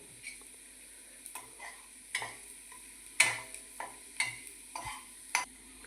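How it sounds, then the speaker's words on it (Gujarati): Garlic roasting in a pan while being stirred, with a soft sizzle under a string of sharp scraping and tapping strokes from the spoon at irregular intervals. "શેકાવા દો લસણને થોડાક થોડુંક શેકાવા દો હલાવતા રહો લસણને"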